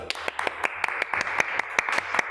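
A single person claps their hands in a steady, quick rhythm, about a dozen crisp, close claps over a faint background hum.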